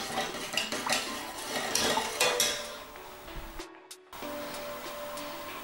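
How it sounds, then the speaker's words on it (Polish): Coconut oil and a blend of other oils being stirred together in a bowl. A utensil clinks and scrapes in an irregular rhythm, close up, with a brief hush near the end before quiet stirring resumes. "Najlepiej pomieszać sobie te oleje i całość zamieszać."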